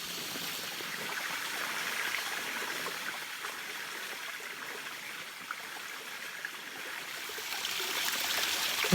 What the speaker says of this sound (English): Enjoy the sound of falling water.